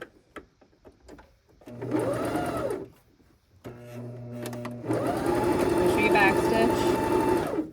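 A sewing machine stitches small marionette pants in several close, whirring bursts, separated by short pauses and a few clicks, getting longer and louder toward the end.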